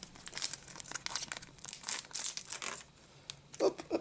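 A Yu-Gi-Oh Rush Duel card pack wrapper is torn and crinkled open up close, with bursts of crisp foil crackling and ripping, and a brief pause partway through.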